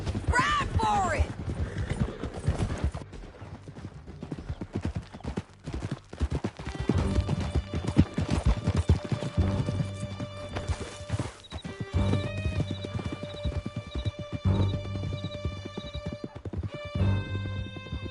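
Horses galloping through a canyon in Red Dead Redemption 2, with rapid clip-clopping hooves, whinnying and neighing up close, and a steady musical tone running underneath.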